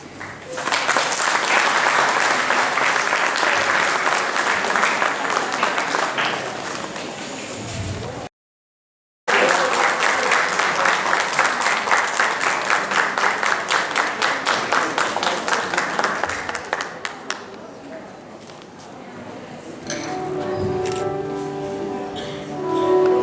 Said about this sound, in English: Let us all give them a huge round of applause for their impeccable performances